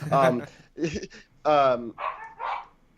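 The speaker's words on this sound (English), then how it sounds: "my dog's freaking out" Indoors, a dog barks and yelps in several loud, excited bursts, close by, with whiny voiced tones between the barks and no clear speech.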